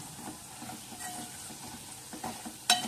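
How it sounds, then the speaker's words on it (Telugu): Dal with chili powder is stirred in a pot, giving soft scraping and a faint sizzle at low level, with a sharp metallic clink near the end. "ఉడికించుకున్న తర్వాత ఈ కారం కూడా బాగా కలిసేలాగా కదుపుకోవాలి."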